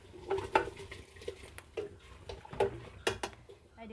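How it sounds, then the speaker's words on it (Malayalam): Washed rice goes into a pot of boiling water for beef biriyani, heard as a few close scrapes, knocks and clinks of a utensil against the pot with short bursts of splashing and bubbling. "കഴുകി വെച്ച അരി ഇടുന്നുണ്ട്"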